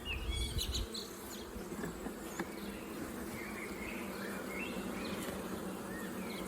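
A honey bee colony hums in an open hive at a zoo. A steady, dense buzz is heard up close, with some faint background chirps and no talking.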